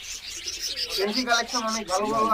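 Pigeons coo at a busy pigeon market in Khulna. The soft, throaty calls grow fuller and repeat in waves over the second half, with faint market bustle underneath.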